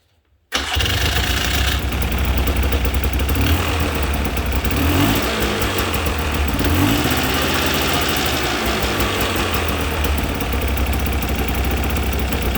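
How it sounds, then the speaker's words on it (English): A 1994 Polaris 400L 4x4 ATV engine fires up abruptly after a moment of silence and then runs loudly and steadily at idle close by, with slight surges in pitch and no talking. "I'm going to start the bike up one more time, and we're going to watch it running"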